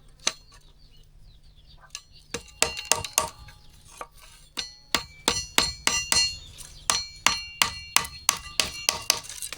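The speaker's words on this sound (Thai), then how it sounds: "ตอกใส่เลย" Hammer driving small nails into softwood while building a monitor lizard trap: sharp metallic strikes, sparse at first, then a steady rapid run of close, loud blows.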